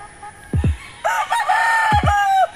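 A red kelso stag rooster crows loudly and close, with a couple of short clucks before the crow, alone without talk.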